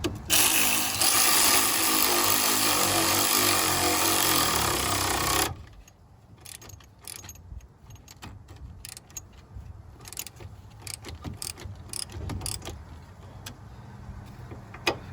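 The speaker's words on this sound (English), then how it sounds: "And then you're going to come in with your 14mm socket. Make sure it's tightening." A 14mm socket tool tightens a bolt on the upper control arm of a 2000-2004 Dodge Dakota/Durango 4x4. A loud, steady mechanical whir is followed by quieter, scattered clicks and taps.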